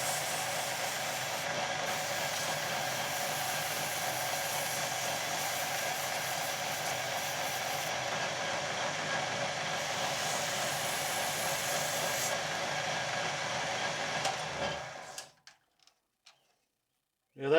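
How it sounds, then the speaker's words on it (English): Sandpaper pressed against a scrap-hardwood file handle spinning on a lathe gives a steady, loud rushing hiss with the motor drone beneath, running unbroken for about fifteen seconds before stopping abruptly. "Then I go down and grip my sandpaper."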